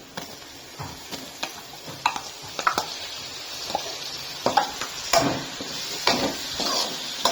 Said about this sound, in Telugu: టమాటా బాగా ఇలా కలుపుకోవాలన్నమాట, వేయించుకోవాలి టమాటా కూడా.